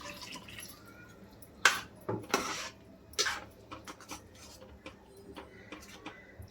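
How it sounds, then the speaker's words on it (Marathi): Water splashes and trickles as a mixer grinder jar is rinsed and scrubbed, with a few sharp clinks and rubbing sounds close by. No one speaks. "आता आपण मिक्सरचं भांडं पण धुवून टाकून देऊया."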